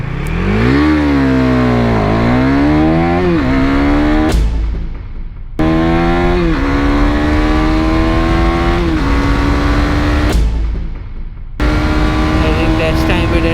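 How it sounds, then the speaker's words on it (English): KTM Duke 250 ABS motorcycle braking hard with aggressive downshifts through the slipper clutch, engine note rising in sharp revving sweeps that drop off between gear changes, loud and close, repeated roughly three times. "So we did some aggressive downshifting, activated the slipper clutch."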